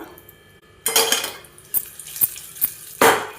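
Clinks and scrapes of a metal spoon against a pan, with short bursts of sizzling as tempering spices, curry leaves and asafoetida hit hot ghee, close by.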